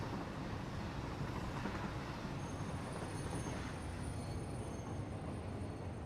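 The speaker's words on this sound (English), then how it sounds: "There's the other water train. That is really close behind, actually." A water train in the video game Satisfactory moves along the track, giving a steady, faint, continuous rolling rumble with a thin high whine creeping in partway through, with no voices.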